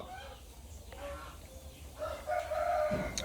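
Chickens and a rooster crow and cluck at a farm where young roosters are kept in coops, faint to moderate in the background while someone talks nearby.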